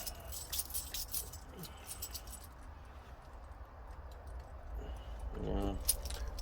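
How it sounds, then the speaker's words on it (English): Metal screws being handled in a magnetic parts tray during repair of a Rovan Baja RC car, faint light clinks and jingles over a low background hum. "Also using my magnetic tray, quite good for if you don't use your screws and it's magnets, so there's nothing falls out"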